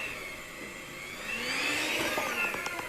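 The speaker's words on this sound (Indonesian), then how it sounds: "Kita mixer." An electric mixer kneads donut dough with a steady motor whir that swells slightly louder partway through, running alone without talk.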